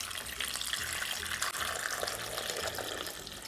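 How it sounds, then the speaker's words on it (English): Water gushes steadily into a pot over tomatillos and other chilaquiles verdes ingredients in a kitchen, a continuous close pouring rush with no talk. "Add enough water to cover all of the ingredients."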